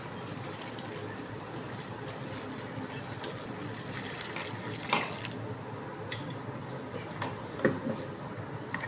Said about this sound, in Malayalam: കുറച്ച് വെള്ളം ഒഴിച്ചു ജാറ് കഴുകി കുറച്ച് വെള്ളം ഒഴിച്ചു കൊടുക്കാം